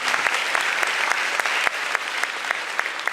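An assembly hall audience applauds steadily as faculty enter a school convocation, a dense and even patter of many hands throughout, with one sharper clap standing out midway.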